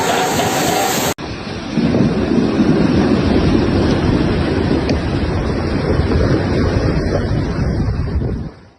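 Roaring storm surf and heavy breaking sea waves pound the Sicilian coast, a dense continuous rumble with strong wind buffeting the microphone, loud and unbroken after a brief cut near the start.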